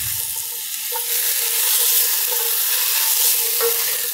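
Onions and butternut squash cook in a pot with a steady, close sizzle throughout, with a couple of soft stirring scrapes near one second and again late.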